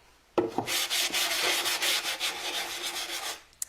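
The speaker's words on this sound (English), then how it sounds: "the idea here is to scuff sand it" Rapid back-and-forth scuff sanding by hand on a wooden caddy box, loud and close, continuing in a steady rhythm for a few seconds.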